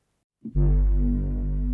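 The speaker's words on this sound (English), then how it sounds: "more of 808 bass 1, but with more processing, with flanges, chorus, and more distortion" An 808 bass sample processed with flanger, chorus and heavy distortion hits after a short attack and holds as a loud, deep, buzzing drone with a gritty harmonic edge, standing alone.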